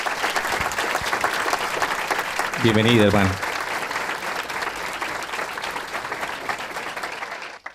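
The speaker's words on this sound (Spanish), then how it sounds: "Un aplauso primero para Dios y para nuestro ministerio." Applause from a church congregation at a Bible study gathering in Brussels, a steady crowd clapping under a welcoming speaker's voice, swelling briefly partway through before settling back to a continuous patter.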